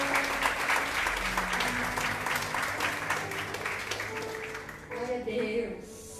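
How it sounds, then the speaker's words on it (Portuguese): A church congregation applauds loudly and steadily in a dense crowd clap, with music and voices sounding under it, then the clapping thins out and fades near the end. "Você pode aplaudir ao Senhor?"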